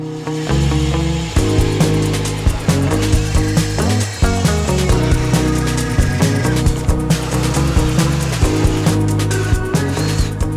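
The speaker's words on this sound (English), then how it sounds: "We're going to drill those holes now" A power drill whirs continuously at close range, its motor pitch steady with rhythmic ratcheting clicks as it bores holes for a Truma underbunk air conditioner installation.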